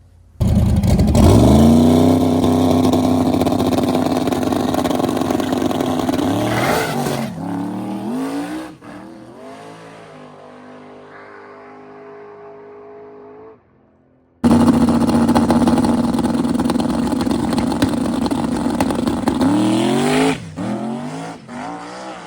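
A turbocharged drag racing car makes a pass, its engine roaring loud and close, rising in pitch through the gears, dropping to a quieter idle-like stretch, then blasting back at full volume before cutting off.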